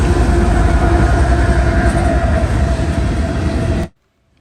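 A freight train with an ex-CityRail unit running as a mid-train DPU rumbles past near Elkhart, Indiana, loud and close with steady rolling clatter, then cuts off abruptly into silence near the end.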